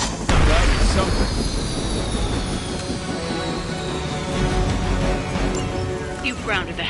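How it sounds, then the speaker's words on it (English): A helicopter is brought down in the Marvel's Midnight Suns video game, making a loud, continuous mechanical roar with sweeping, shifting tones and scattered crashing bursts throughout. "You've grounded the helicopter."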